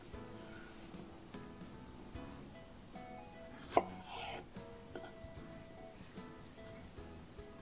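Knife halving fresh strawberries on a board, with faint soft cuts, one sharper knock near the middle, and a quiet rustly background, close by and without speech.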